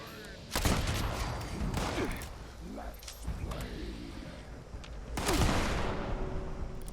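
Handmade rifle firing in the video game Fallout 76: loud gunshot bursts near the start and again later, with quieter game sounds and a voice speaking between them.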